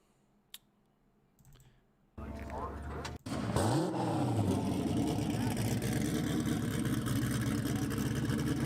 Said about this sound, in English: And then the car drove back in the trailer.